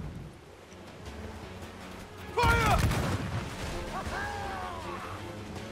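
Cannon fire from a sailing warship in the video game Assassin's Creed IV: Black Flag: a sudden loud blast booms in midway through, followed by rumbling echoes, with shouting crew voices before and after.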